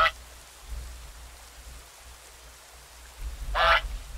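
A goose in a farming sim game, two short honks, one at the very start and another near the end, over a soft rainy background with low thumps.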